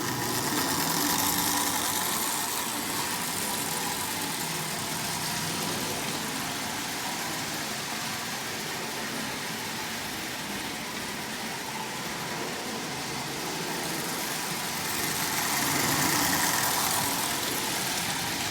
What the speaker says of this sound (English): It's going to be its first trip around the rail as an assembled locomotive.